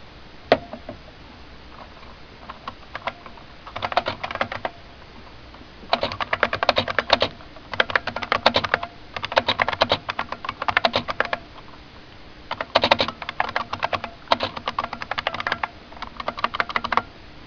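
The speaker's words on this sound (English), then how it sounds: "we can just go ahead and we can type up a note" Fingers tap on a Bluetooth keyboard in bursts of quick, close, clicky keystrokes separated by short pauses.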